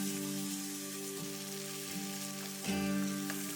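Potato sabji with masala and salt being roasted in a pan gives off a steady, close sizzle over a constant low hum, with a few louder crackling surges.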